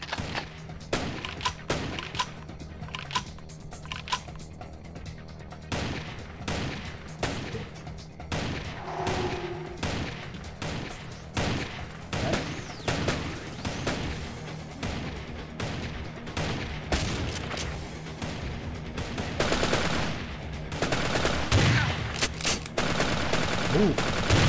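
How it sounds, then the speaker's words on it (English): Repeated shotgun blasts in the game Vampire the Masquerade Bloodlines, firing in an irregular rapid series of loud, punchy bangs throughout, with combat noise and occasional talk mixed in. "Here I probably should use just the shotgun just to open space."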